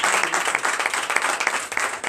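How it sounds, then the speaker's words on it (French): Sunday church congregation in Benin clapping and cheering in acclamation, a close, loud burst of many hands with individual claps popping through a lively, slightly uneven rhythm. "Donnez l'acclamation à notre Seigneur."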